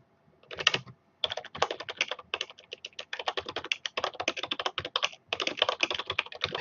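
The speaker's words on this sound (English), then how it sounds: "Typing off screen, sorry." Rapid bursts of typing on a computer keyboard off screen during game development work, close and fairly quiet, with brief pauses between flurries of keystrokes and no voices.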